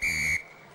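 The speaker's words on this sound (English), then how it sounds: "Referee blowing the whistle." A rugby referee's whistle at a Samoa versus Italy match, one loud sustained blast lasting about a third of a second over crowd noise, then cut off as the stadium ambience carries on.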